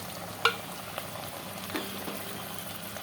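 Prawn cutlets dropped into hot white oil and frying in a home kitchen, a steady close sizzle and bubble with one brief clatter near the start and a few faint knocks after, no one talking.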